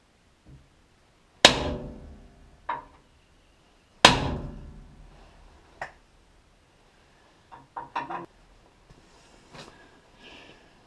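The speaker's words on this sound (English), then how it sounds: "I guess we gotta punch the remains of that cut off" Hammer blows punching out the remains of cut bolts on a 1953 Mercury bumper: several sharp metallic strikes at irregular intervals, each ringing briefly before dying away, close and with no talking.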